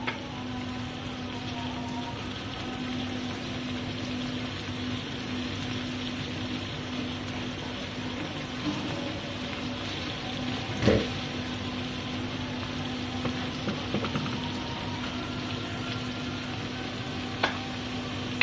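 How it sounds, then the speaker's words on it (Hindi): Ridge gourd and chana dal frying in a pan give a steady, moderate sizzle that runs unbroken throughout, with a few soft stirring knocks and no talking. "आप 30 सेकेंड्स के लिए आप इसको थोड़ा सा फ्राई कर लें"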